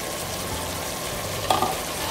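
Butter chicken paste is stirred in a pan over a steady, even sizzle, with a brief scrape and clatter of the spoon partway through.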